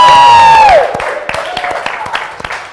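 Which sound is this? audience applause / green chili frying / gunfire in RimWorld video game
audience applause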